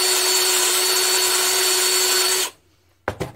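A power drill spins a wire brush wetted with lacquer thinner inside the holes of a 1918 International Type M 1 1/2 hp engine, a loud steady whine that cuts off abruptly, followed by a couple of short knocks.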